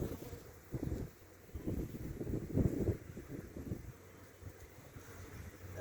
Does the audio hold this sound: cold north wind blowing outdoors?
yes